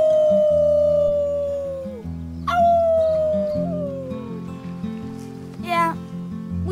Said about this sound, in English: Let's start with our team howl.